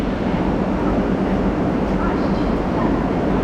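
Vande Bharat Express running, a loud steady rumble and rattle from inside the coach with no distinct clicks or horn.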